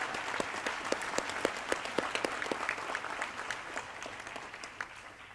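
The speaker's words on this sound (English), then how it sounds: "I now ask our lecturers and their families and friends to applaud the graduates for their" Audience of lecturers, families and friends applauding graduates at a university human rights graduation ceremony, dense continuous clapping from a large crowd that gradually thins and fades.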